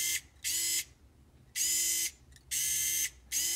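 A Hammerhead HCSD040-02 rechargeable screwdriver whirs in four short bursts, its small motor spinning briefly, then stopping with quiet gaps between runs, heard close and alone.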